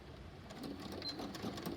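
A sewing machine stitches pillowcase fabric in a quiet room, a faint, steady rapid chatter of the needle running without pause, with no one speaking.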